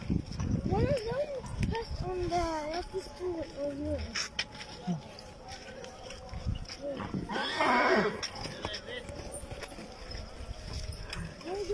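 Horse neighing nearby, with a loud whinny early on and a second outburst later, over background buzzing and people talking through most of it.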